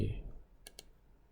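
Two quick, crisp computer mouse clicks, close together, select a menu option in the KTB Corporate Online banking software, heard over faint background noise.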